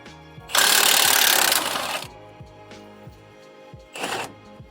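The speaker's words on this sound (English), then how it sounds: "I'm gonna use my impact." A loud burst from an impact wrench loosening a 30 mm lower shock nut on a 2004–2008 Ford F-150 rattles for about a second and a half, followed by a shorter second burst after a pause.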